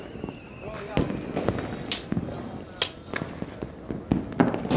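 Diwali fireworks, rockets, sky shots and firecracker bombs go off in Batala, with sharp cracks and whistling bursts at irregular intervals, some near and loud, others farther off, over crowd noise and voices.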